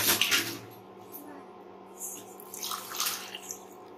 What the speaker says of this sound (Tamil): இப்ப இதுல தேங்காய் பாலும் சேர்த்துக்கலாம்.